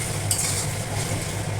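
Chicken curry frying in oil in a pan, stirred slowly with a steady close sizzle and soft scraping throughout, no voices.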